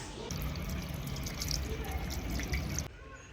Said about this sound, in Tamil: இதை தண்ணி ஊற்றி வாஷ் பண்ணி பார்க்கலாம்.